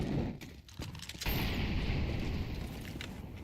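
A flashbang grenade going off in a video game, a sudden loud burst followed by a sustained ringing, roaring blast wash that lingers for a few seconds.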